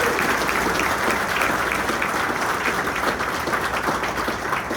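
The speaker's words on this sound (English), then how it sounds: "Can we give one more round of applause for our veterans?" A large crowd at a military salute event gives veterans a sustained, dense round of applause, an even wash of clapping at a constant level throughout.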